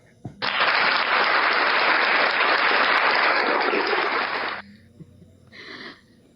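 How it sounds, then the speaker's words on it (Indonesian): An audience at an interfaith debate event bursts into a dense, steady wash of applause lasting about four seconds, then cuts off abruptly, followed by brief faint sounds. "kalau masih mau tepuk tangan, waktu dan tempat masih diberikan."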